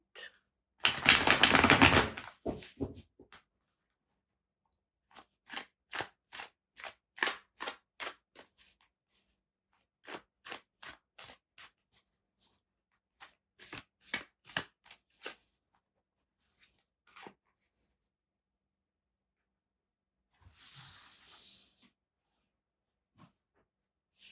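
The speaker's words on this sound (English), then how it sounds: "Let's shuffle a bit." Repeated rapid riffling of a tarot card deck, crisp flutters in quick bursts separated by silences, close and fairly quiet, no talking.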